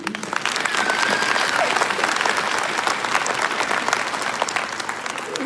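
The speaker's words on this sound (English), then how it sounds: "everyone get a round of applause for our graduates" Crowd applause for graduates at a 2024 graduation ceremony, a dense, even roar of clapping from a large audience that stays steady throughout with faint voices underneath.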